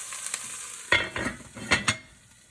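Sausage and peppers being stirred in a pan that is starting to burn on the bottom, giving a few close scraping strokes over a soft, steady sizzle.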